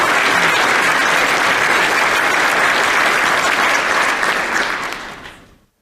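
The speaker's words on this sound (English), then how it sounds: "If we can have another round of applause," Loud, dense applause from a crowd at a formal ceremony fills the air, holding strong before gradually fading away at the end.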